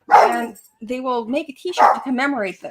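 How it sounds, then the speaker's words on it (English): A Yorkshire Terrier barks a couple of times in the background while a person speaks over it, the short yaps mixed under the talking. "I've got a Yorkshire Terrier here."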